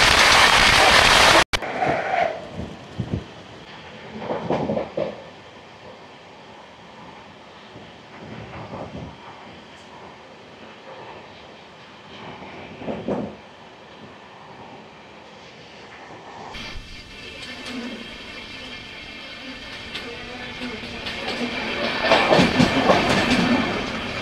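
The Kanchanjangha Express runs between Sealdah and Sabroom, heard from inside a sleeper coach. A steady, loud rumble of wheels and car noise carries on without a break, swells near the end and has a sudden burst at the start.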